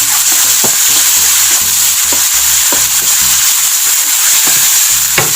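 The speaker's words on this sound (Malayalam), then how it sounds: "കുറച്ച് സമയമെടുത്ത് വഴറ്റി തക്കാളിയൊക്കെ നന്നായിട്ട് ഉടച്ചെടുക്കാം." Tomatoes being sautéed and mashed in a pan for Andhra fish curry, a steady sizzle with repeated scraping and stirring strokes, close and loud throughout with no talking.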